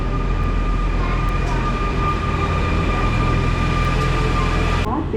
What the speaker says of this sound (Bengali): এসে গেছে ট্রেন, এটাতেই উঠবো